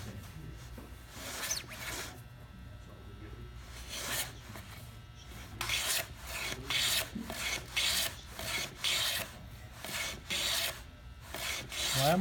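A hand plane is pushed along a wooden board in a dozen or so repeated rasping strokes, each a short breathy shave followed by a pause, close and moderately loud with no talking.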